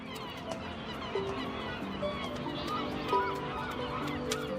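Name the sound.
young herring gulls begging for food on Berlin rooftops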